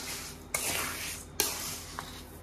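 Frying on a sim to medium flame while being stirred: a soft steady sizzle broken by two sharp scraping strokes and a lighter tap, close and alone, with no talk.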